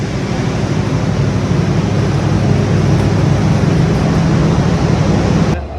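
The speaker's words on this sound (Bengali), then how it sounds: "এদিকে অনেক আওয়াজ ইঞ্জিনের" A large train locomotive engine runs at a station platform, giving a loud, steady, dense rumble with a deep low throb that holds unchanged throughout before stopping suddenly at the very end.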